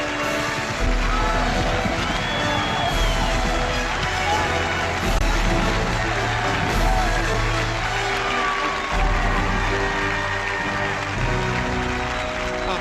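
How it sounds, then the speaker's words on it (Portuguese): A large audience bursts into sustained applause and cheering, dense clapping mixed with shouts and whoops that rolls on steadily for several seconds, with a voice speaking over it. "Isso, meus amigos, é o som dos aplausos!"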